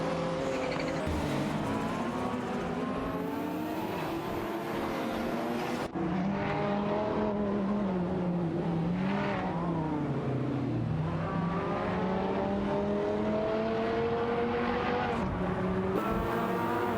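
Race cars in a racing video game, among them a Ford Mustang SVT Cobra '93 and a Hot Wheels car, run neck and neck with steady loud engine drones that rise and fall in pitch, plus occasional tire squeals, with no talk.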